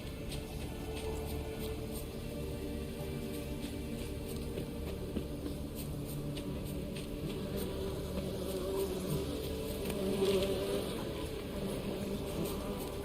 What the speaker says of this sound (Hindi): मधुमक्खियों की आवाज क्यों आ रही है?